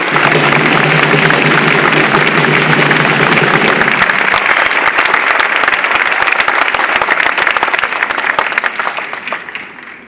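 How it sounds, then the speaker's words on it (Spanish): Loud, dense applause from a large crowd at a legislative report event honoring Enrique Peña Nieto and Egidio Torre Cantú, sustained clapping that holds steady for several seconds before tapering off. "Un aplauso pues para Enrique Peña Nieto y para Egidio Torre Cantú."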